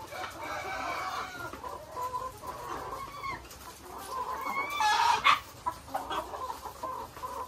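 Layer hens moved back into a poultry building cluck and squawk in a dense, mid-distance chorus, with one louder burst of calls partway through over a low barn murmur.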